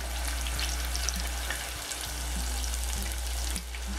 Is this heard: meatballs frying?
yes